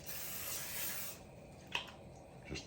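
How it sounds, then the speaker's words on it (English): Pam cooking spray hisses steadily for about a second into a non-stick pan on a burner set to high, followed by a couple of soft clicks and light clatter. "so I always spray it with Pam"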